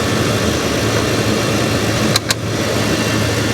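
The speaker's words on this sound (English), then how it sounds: "You don't hear any change in engine RPM when you remove it." A police car engine bought at a salvage auction idles close up at a steady, unchanging speed, with a constant low rumble and two brief clicks just after the two-second mark.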